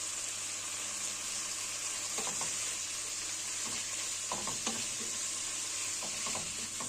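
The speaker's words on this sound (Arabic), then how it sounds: "هقعد اشوح فيها واقلب فيها كده لحد ما هتنزل الدهون بتاعتها كلها" Fatty meat sizzling in a pan as it renders its fat, a constant close hiss of frying broken by repeated scraping clacks of a utensil stirring and turning it, no talk.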